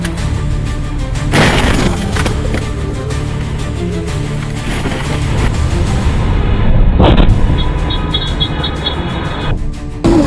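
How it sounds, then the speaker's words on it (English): A car speeds into a road repair zone at night and crashes, with loud booming impacts and crunching debris over steady road noise. "the car sped straight into the repair zone, ending in a brutal crash."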